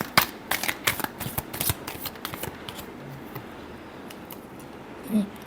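Tarot cards are shuffled in a rapid series of crisp riffling bursts up close, then fall into quieter soft rustles and a few light taps.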